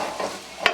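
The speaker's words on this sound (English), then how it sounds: "after I put in that garlic and that shallot" Garlic and shallot frying in a hot pan, a brief close sizzle and hiss with a small clack of a utensil near the end.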